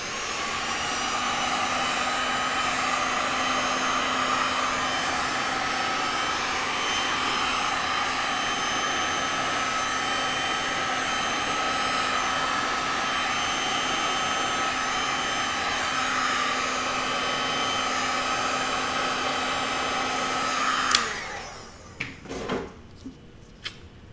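A heat gun blows on a fresh resin pour, giving a steady loud whooshing hum for about twenty seconds before it cuts off, followed by a few faint knocks and handling sounds.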